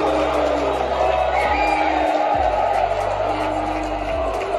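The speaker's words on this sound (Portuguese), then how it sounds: "prefeitos de todo o Brasil vieram aqui para Brasília e vaiaram o Lula no seu" Crowd of mayors at a mayors' event in Brasília booing President Lula: a dense, continuous roar of many voices with jeers and whoops, loud and sustained, with a low hum beneath.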